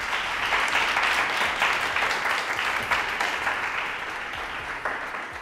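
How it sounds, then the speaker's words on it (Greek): A small audience claps at a Greek food-and-friends gathering, a full steady burst of applause sustained throughout, fairly loud and close, with a few voices faintly underneath. "Δώστε το ένα χειροκρότημα, παιδιά."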